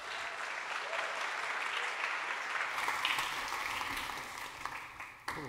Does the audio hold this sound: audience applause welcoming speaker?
yes